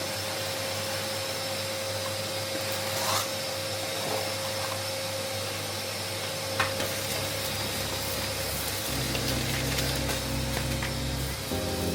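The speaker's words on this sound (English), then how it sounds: "I first vacuum clean this floor really well" A vacuum cleaner runs steadily while cleaning a floor during floor-heating installation and lime rendering work, a loud continuous whining hum that shifts pitch partway through as the nozzle moves, with a few faint knocks.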